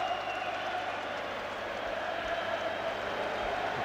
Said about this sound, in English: The Hibs fans have stayed around to give their team rightful applause.